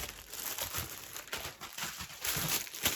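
A plastic parcel bag is rummaged through, producing continuous close crinkling and rustling with uneven bursts, alone without speech.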